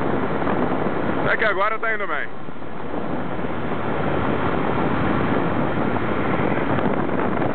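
Loud, constant wind roar buffets a camera shielded by hand from a moving car on the road through Quebrada de Humahuaca, with someone speaking briefly over the rushing noise.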